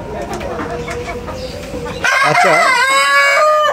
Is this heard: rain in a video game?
no